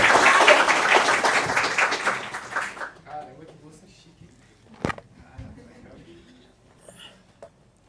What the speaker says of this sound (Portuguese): Salva de palmas, gente, por favor.